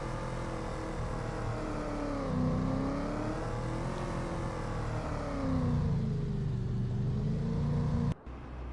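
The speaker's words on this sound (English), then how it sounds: "we'll take the truck back now" A truck in the video game Farming Simulator 25 drives along with a steady engine drone that rises and falls in pitch as it shifts and accelerates, close and loud, with no talking, cutting off abruptly near the end.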